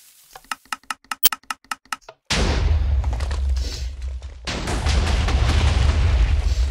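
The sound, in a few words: TNT cannon with rapid-firing dispensers firing in a video game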